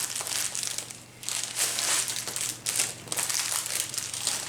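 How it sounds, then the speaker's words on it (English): A plastic package of disinfecting wipes being opened up close, loud crinkling and crumpling in bursts with short pauses. "We're gonna open up our wipes"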